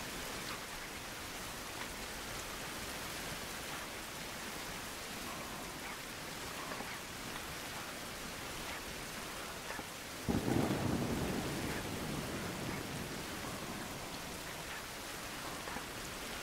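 Steady rain hissing down in a video game, a constant wash of noise with a low rumble of thunder rolling in partway through, no voices.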